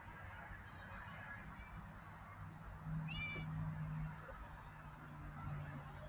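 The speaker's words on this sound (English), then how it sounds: "I can hear the kitty cat." A cat's faint meow rises briefly amid a low steady hum and background murmur in a house during a game night, one short call heard once and fairly distant.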